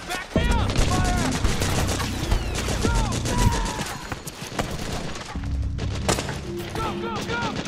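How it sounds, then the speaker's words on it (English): Suppressing gunfire in a firefight, sustained bursts of shots and booms under shouted commands and other voices, loud and close. "Suppressing fire!"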